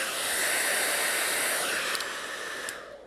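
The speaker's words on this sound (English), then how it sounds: "I'm going to be using my hairdryer just to warm this end up very, very" A hair dryer blows steadily to warm the end of a rolled beeswax skinny candle, a broad close airy hiss that holds nearly level and thins slightly toward the end.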